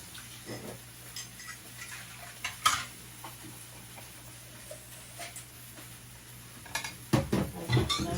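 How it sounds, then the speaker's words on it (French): Dishes being washed by hand, a salad bowl and a spoon knocking and clinking in a sink, with scattered close clatters, a sharp knock partway through and a busier run of clinks at the end. "je veux un peu finir de ma vaisselle"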